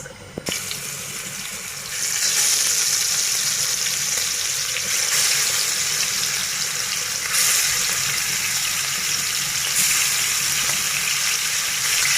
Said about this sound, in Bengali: এখন আমার মাছটা ভাজা হয়ে গেছে